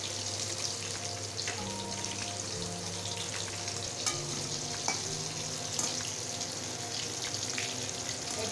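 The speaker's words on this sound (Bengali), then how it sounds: "এই মাছ ভাজা হতে থাক," Fish frying in a wok gives a steady, close sizzle and crackle of hot oil, with occasional clicks and knocks from utensils and no talk.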